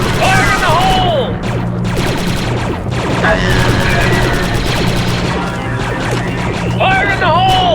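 A grenade blast in the Star Wars Republic Commando video game, a loud burst and crash that sits among continuous gunfire, game music and other battle effects.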